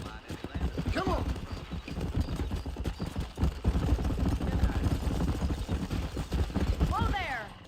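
Horse galloping in the Western video game Red Dead Redemption, steady rapid hoof clip-clops running throughout, with a whinny near the start and another near the end, under background game sound.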